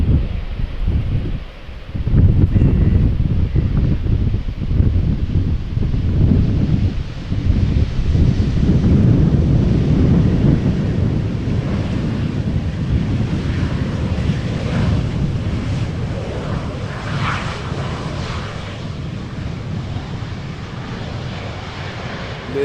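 Strong gusty crosswind roars across an open airfield at Amsterdam Schiphol Airport, with a distant airliner's engine rumble blending into the steady buffeting wind noise, loud and continuous and without talk.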